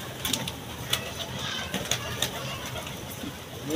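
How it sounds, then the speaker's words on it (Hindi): Many pigeons shut in a box coo faintly and continuously, with scattered sharp clicks and scrapes over a low murmur of background noise. "काफ़ी कबूतर डब्बे में किए हुए हैं"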